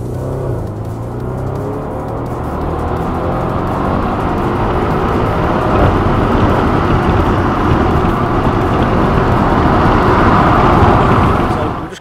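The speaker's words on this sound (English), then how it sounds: "we're in the RS6-R. We're just going to take it for a quick spin" Audi RS6-R tuned by Richter Sports driving, a steady engine drone and road rumble heard from inside the car, building slightly, with a voice speaking over it.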